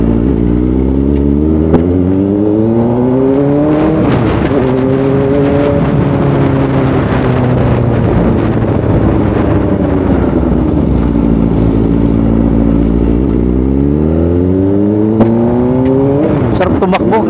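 A Kawasaki ZX-4RR sport bike rides along a freshly paved city road, its high-revving engine loud and close, climbing in pitch through repeated gear changes with brief dips between shifts.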